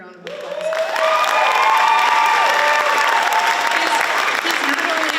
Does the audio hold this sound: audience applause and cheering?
yes